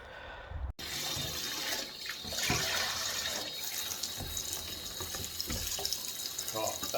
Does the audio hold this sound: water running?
yes